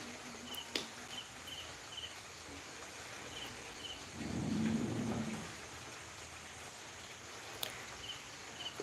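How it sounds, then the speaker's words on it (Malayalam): Steady rain hisses faintly and evenly throughout, with a low thunder rumble swelling briefly midway; no one speaks. "ഇവിടെ നമ്മളെ നാട്ടിൽ നല്ല മഴ ഉണ്ട് കേട്ടോ"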